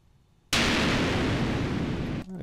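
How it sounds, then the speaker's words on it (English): An explosion sound effect, prepared for a mixing session, bursts in abruptly after a quiet half second and holds as a loud, dense, roaring blast for nearly two seconds before cutting off sharply. "What's this explosion thing here?"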